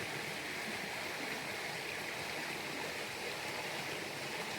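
A river rushes steadily beside an open-air hot spring bath at a ryokan in Nishiwaga, Iwate, a continuous broadband wash of flowing water with no pauses, close and even in level.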